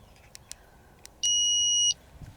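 A Dog Trace X30 collar beeper, connecting, gives a sustained piercing electronic beep of under a second, preceded by a few faint short chirps, with quiet room noise around it.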